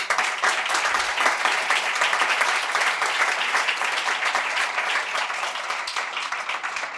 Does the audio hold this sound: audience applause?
yes